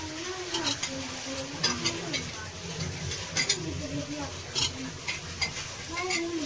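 Potatoes are stirred into nutri frying in a pot, with a steady sizzle and repeated scraping stirs, and a faint voice in the background.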